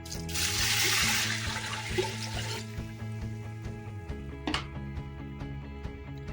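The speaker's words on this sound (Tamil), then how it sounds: "இதே கப்புக்கு 6 கப்பு தண்ணி எடுத்து வச்சிருக்கிறேன். ஆட் பண்ணலாம்." Six cups of water poured into a pot of wheat kanji, a broad rushing pour for the first few seconds that settles into lighter trickling and clinks of the pot, close by with no talk.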